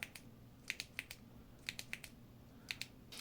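Acebeam Rider RX EDC flashlight tail switch clicked repeatedly, sharp close clicks in small clusters of two or three, crisp and quiet against a faint background.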